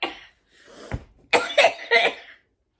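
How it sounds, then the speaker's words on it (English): A woman coughs in a fit after inhaling hot cocoa: a few rough, breathy coughs, then a pause, then three sharp, close coughs in quick succession before silence. "I'm ready to have a coughing fit."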